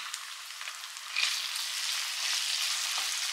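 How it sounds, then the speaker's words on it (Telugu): Thinly sliced tomatoes added to ginger-garlic paste frying in a pan for a fish curry, a steady bright sizzle that swells louder partway through and crackles on without any voices. "ఇలా వేగిన తర్వాత ఇప్పుడు మనం ఇందులో టమాటాలు 3 తీసుకొని ఈ విధంగా సన్నగా కట్ చేసి ఇందులో యాడ్ చేసుకోవాలి"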